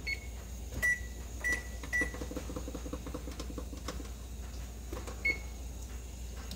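An oven timer is set while seafood macaroni and cheese bakes, giving a few short electronic beeps and soft button presses against a low, steady hum.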